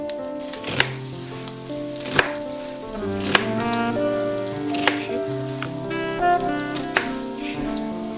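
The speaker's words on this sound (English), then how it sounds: "I take the onion, big one, big onion, and I need to cut it to small pieces also" A knife chops a large onion into small pieces on a board in sharp, spaced strikes, roughly one every second, over steady background music.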